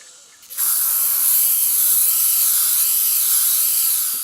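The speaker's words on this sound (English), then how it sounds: "so I'm just going to start spraying now" A spray can of chalkboard paint hisses in one steady, loud, continuous burst lasting several seconds, starting abruptly after a brief quiet moment, spraying glass herb jars.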